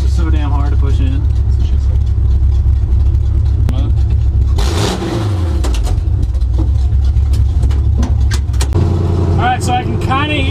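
A Ford F100 truck with open headers and a 5-speed swap idles with a deep rumble, then revs up and falls back while people talk over the engine.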